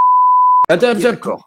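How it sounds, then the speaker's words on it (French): A steady, loud censor bleep lasts about half a second, then a man's French speech follows straight after it. "Tu mets un bip, là."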